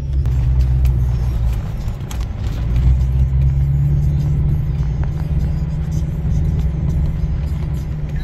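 A truck hauling a trailer rolls into a sawmill, its engine giving a steady low rumble that swells and eases slightly as it pulls in, with faint voices beneath.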